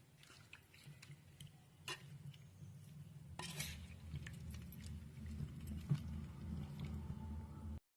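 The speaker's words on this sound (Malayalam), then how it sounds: "ഇളക്കി കൊടുക്കാം." Sardine curry masala with pepper powder being stirred in a pan: faint scattered scrapes and metallic clinks of a spoon against the pan over a low background hum.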